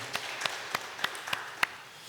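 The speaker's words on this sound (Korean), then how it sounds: "하나님 영광에 박수 드리겠습니다." Church congregation at a Korean Methodist Sunday worship service gives a few sparse, separate claps, quiet and spaced out over a couple of seconds, with no voices.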